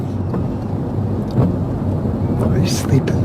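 Steady heavy rain pours in a Silent Hill 3 game scene, a dense close hiss with low rumbling underneath, a few brief louder splashes and a quiet voice in the background.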